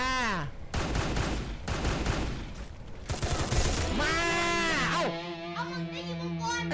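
Rapid bursts of Bizon submachine gun fire crackle in a Free Fire match, several fast volleys at close range followed by a rising and falling whooshing game effect and a sustained tonal hum.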